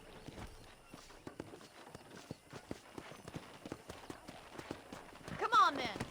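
Horse hooves clip-clop on the ground in the Western video game Red Dead Redemption, a steady irregular patter of quiet hoofbeats lasting throughout, with a brief brighter tone near the end.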